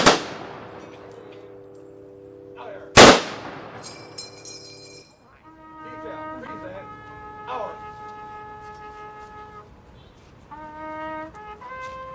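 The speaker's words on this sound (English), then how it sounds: "Prepare to fire a 3-round volley." Rifle salute volley at a Memorial Day ceremony in a park: one sharp, loud outdoor crack rings out and echoes, with sustained musical tones and quieter sounds around it.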